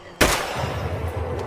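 A single loud gunshot rings out in State of Decay 2 at night, a sharp close crack followed by a rumbling tail that fades over about a second.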